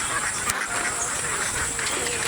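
Ducks quack along a canal bank by a wetland in the countryside, repeated calls over a busy outdoor background with faint voices.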